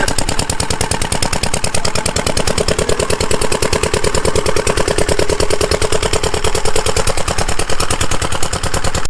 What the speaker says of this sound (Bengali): এই দেখুন শ্যালো মেশিন চলছে পাশে জমিতে খেতে